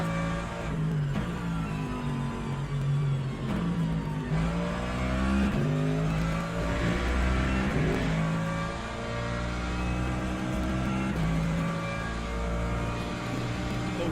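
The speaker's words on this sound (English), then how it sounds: "here's a hypercar" A hypercar engine approaching in Le Mans Ultimate, a loud, sustained whine that rises and falls as the car shifts gears and climbs in pitch over roughly fourteen seconds, heard alone without talk.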